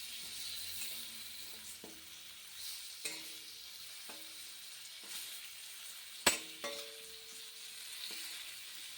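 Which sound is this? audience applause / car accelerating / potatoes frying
potatoes frying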